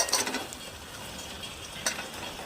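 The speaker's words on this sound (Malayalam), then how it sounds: "നന്നായി ഇളക്കുക." A spoon stirs chicken through tomato and soy sauce in a hot pan, giving soft scraping and clattering strokes with two louder sweeps over a light sizzle, close by and without speech.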